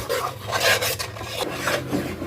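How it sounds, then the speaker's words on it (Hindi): A spoon scrapes and stirs Makhandi halwa, a Pakistani semolina sweet, in a pot as it cooks in ghee, giving repeated close rasping strokes with no talking. "चम्मच हिलाते जाएंगे और इसे पकाते जाएंगे।"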